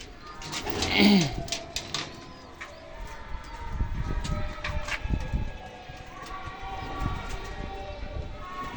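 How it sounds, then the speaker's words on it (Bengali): Pigeons burst into flight with a loud flutter of wings near the start, followed by soft cooing and scattered bird calls over steady outdoor background noise. "এই যে পায়রা উঠছে।"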